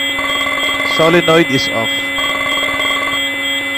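A fire alarm control panel's bell and horn sound as steady tonal buzzing throughout, with a nearby voice speaking briefly over it.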